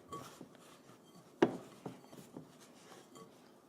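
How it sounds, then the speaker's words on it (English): Dumpling dough is mixed and kneaded by hand in a bowl: faint soft rubbing and squishing with a few light knocks and clinks against the bowl, one sharper tap standing out near the start. "now I am just mixing everything together"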